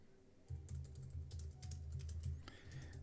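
Quick, uneven clatter of keys as an AI prompt is typed on a computer keyboard, close and steady for most of the stretch after a brief quiet start, with no voices.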